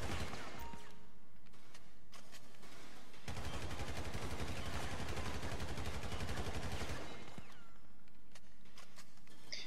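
Sustained gunfire in the GTA V video game, loud rapid bursts that grow denser in the middle and thin out toward the end.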